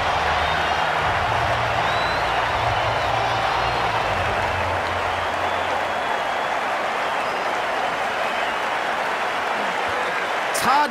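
Steady crowd applause and cheering at a West Indies vs Sri Lanka cricket Test, a dense unbroken wash of clapping lasting throughout, with a low rumble early on and a louder burst at the end.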